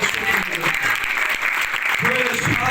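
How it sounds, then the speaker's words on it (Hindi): Loud applause from an audience at a Christian leadership seminar, sustained and steady throughout, with voices and some talk mixed in underneath. "आए जोरदार तालियां।"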